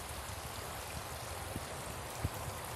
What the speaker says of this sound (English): The water's coming right up out of the ground.